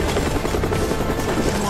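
A helicopter flying nearby, its rotor chop and engine drone loud and continuous without pause.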